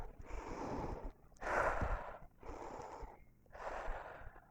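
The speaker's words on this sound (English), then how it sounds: "breathing in and out." Slow, deep breaths during a guided breathing exercise: four long airy breaths alternating inhale and exhale, close and soft, with brief pauses between them and no talking.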